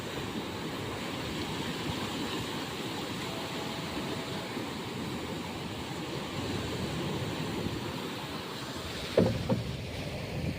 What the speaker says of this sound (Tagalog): Lapit ng dagat.